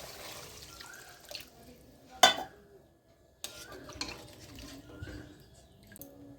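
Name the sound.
pouring water into pan for katla fish curry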